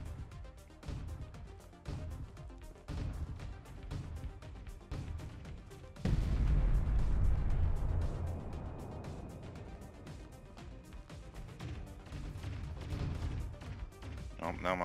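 Machine guns on the player's ship in the game Artificial Extinction, rapid rattling bursts of fire with a heavy crashing impact partway through, mixed under a game soundtrack.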